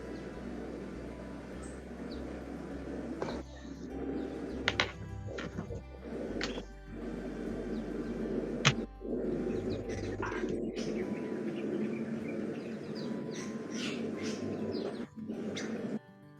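Bali myna birds at close range, giving scattered chirps and calls over a constant background hum, with a few sharp knocks in between.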